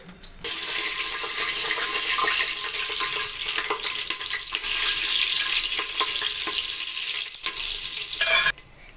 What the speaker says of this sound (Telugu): కొంచెం నెయ్యి వేయాలి. నెక్స్ట్ మనం హోల్ గరం మసాలా వేసుకోవాలి.